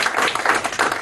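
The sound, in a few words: audience applause for a woman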